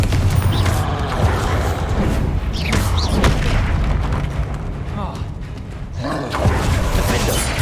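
A Confringo fire spell explodes in Hogwarts Legacy, booming blasts and rumbling bursts recurring over several seconds, loud and dense, with a voice speaking over the action.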